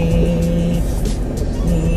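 A car engine droning steadily while driving in a video game, loud and close with a sustained hum that shifts pitch slightly as revs change.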